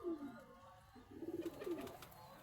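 Breeder pigeons in Faisalabad give a few soft, throaty coos in short rolling phrases, quiet and close against a hushed room.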